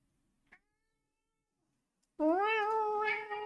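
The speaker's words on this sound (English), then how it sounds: "What are you meowing about?" A pet cat lets out one long, loud, drawn-out meow after near silence broken by a single small tap.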